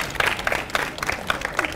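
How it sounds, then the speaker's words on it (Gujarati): Applause from a quiz show audience, a brief patter of scattered hand claps in rhythmic bursts, moderately loud and fairly close. "બધા એમના માટે તાળી આપીએ"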